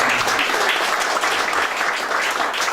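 Continuous audience clapping at a campaign office opening ceremony for a city council candidate, a dense, even burst of hands filling the room throughout.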